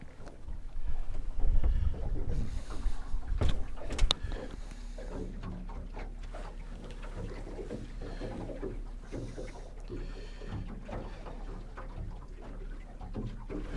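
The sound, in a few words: wind on the water while fishing from a boat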